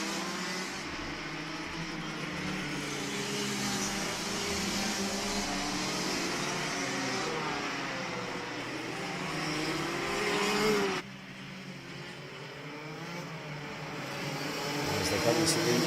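Rotax Max racing karts climb a hill on the Madonna circuit in Latvia, a steady layered engine drone from several karts near and far, with a commentator talking over the noise throughout.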